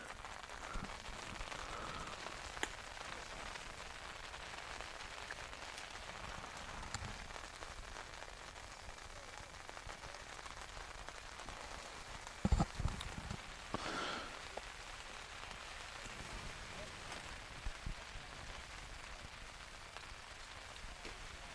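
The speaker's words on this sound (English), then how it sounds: "Rain starting to appear and everyone heading for the umbrellas and coverage." Steady rain patters across an outdoor high school baseball field, a constant soft hiss with occasional sharper drops and knocks, no voices over it.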